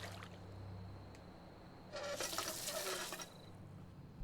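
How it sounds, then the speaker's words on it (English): Water being collected in Fallout 76, a faint low background that gives way to a short, brighter gush of running, splashing water lasting about a second before settling again. "let's just collect a little bit of water"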